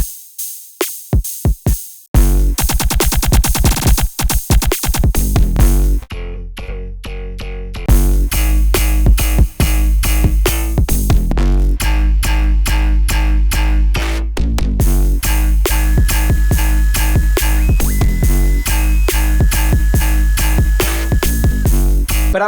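An electronic bass music drop built from sample pack loops opens with sparse hits and a quick stuttering roll, then slams into heavy, dense bass and punchy drums with a sustained rhythmic groove.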